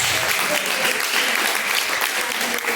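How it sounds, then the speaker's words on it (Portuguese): A church congregation claps hands together in dense, steady applause, loud and continuous throughout a brief stretch. "Pode assentar as palmas bem alegre e obrigada para Jesus"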